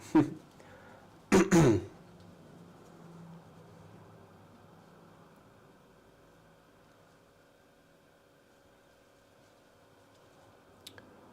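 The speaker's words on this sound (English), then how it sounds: "Sorry, I had to clear my throat." Two short, sharp throat-clearing bursts near the start, then a long stretch of quiet room tone with a faint click near the end.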